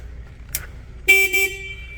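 A Can-Am Defender Max Limited side-by-side fitted with a street legal kit sounds its horn in one short, bright electric honk, close and alone after a faint click.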